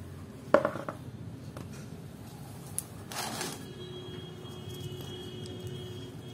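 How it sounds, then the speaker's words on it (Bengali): Broken clay pot shards being pulled out of a bougainvillea's plant pot, giving a few faint, sparse clinks and a brief gritty scrape against a quiet background. "তো আমি এই খোলামকুচিগুলো বার করে দিচ্ছি প্রথমে।"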